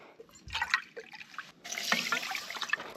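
Water is poured into a pot for cooking rice, a short splashing stream followed by a longer, steadier pour with liquid trickling, close up and alone.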